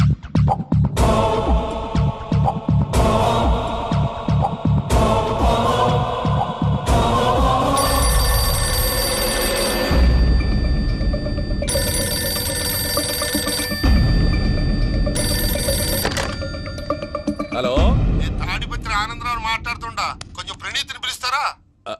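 A telephone rings repeatedly in a Telugu comedy film scene, its bell pattern set against a dense, loud soundtrack of music and effects that runs steadily throughout with no speech.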